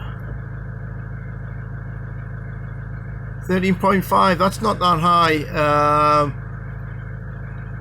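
A car engine idles steadily while its alternator charging rate is checked, a low continuous hum running throughout with a person speaking briefly over it partway through.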